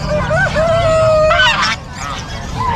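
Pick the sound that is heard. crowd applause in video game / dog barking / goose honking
goose honking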